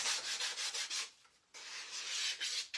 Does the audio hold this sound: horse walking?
no